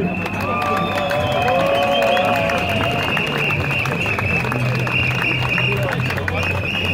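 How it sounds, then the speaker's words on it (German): Dense crowd at a street demonstration in Nürnberg, steady broadband applause and cheering rumble throughout with a whistling tone and shouts over it, voices mixed into the noise. "bitte mehr einen Applaus an die Stadt und auch an die Polizei"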